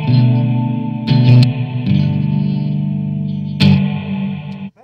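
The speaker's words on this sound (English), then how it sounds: "big room, or a really big stadium reverb." Sustained electric guitar chords through a Blackstar ID:Core V3 amp wash out in a huge, spacious stadium reverb, with a few strums blending into a long lingering tail.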